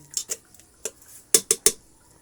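Dry macaroni being added to a pan for macaroni and corned beef: a handful of sharp, bright clicks and clatters, three clustered near the end, close and crisp with quiet in between.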